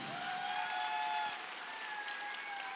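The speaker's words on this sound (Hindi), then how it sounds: "जोरदार तालियां एक बार।" Audience applause at a ceremony honoring a mentor: a steady, dense wash of clapping holds for the whole stretch, with faint sustained musical tones running underneath.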